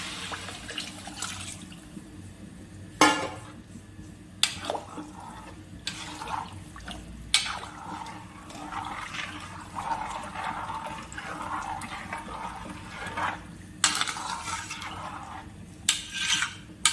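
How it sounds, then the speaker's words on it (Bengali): Water poured steadily into a pot of frying Gobindobhog rice for pulao, a continuous splashing gurgle broken by several louder sloshes and clinks of the bowl as more water goes in. "এখন জলটা দিয়ে দেব।"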